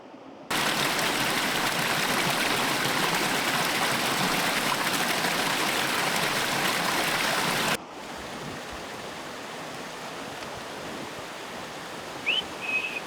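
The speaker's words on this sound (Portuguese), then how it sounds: "Tem uma cascata!" Waterfall in the Atlantic forest, a dense, loud rushing of falling water that cuts off abruptly partway to a quieter, softer wash with a few faint high chirps near the end.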